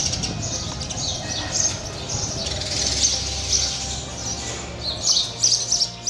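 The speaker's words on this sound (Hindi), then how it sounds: "जगह जगह गौरैया के झुंड यहाँ आपको देखने को मिल जाएंगे।" A flock of sparrows chirps around a house in India where they nest, with many overlapping tweets at moderate distance and a few brighter bursts near the end.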